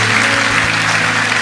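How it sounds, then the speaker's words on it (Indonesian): A burst of loud, dense clapping from a church congregation, steady and continuous throughout. "sekali lagi berikan tepuk tangan yang meriah buat Tuhan"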